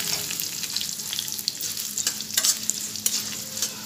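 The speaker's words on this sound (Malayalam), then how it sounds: "ഉഴുന്ന് കുറച്ചിട്ട് വറ്റൽമുളക് ചേർത്ത് കൊടുക്കാം." Urad dal and dried red chillies fry in hot oil for a tempering, giving a steady close sizzle with crackling pops and spatters throughout, no voices.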